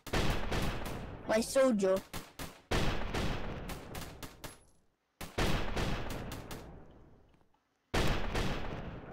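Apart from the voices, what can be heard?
machine gun tower firing in the video game Roblox Tower Battles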